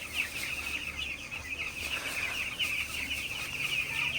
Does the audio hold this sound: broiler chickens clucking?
yes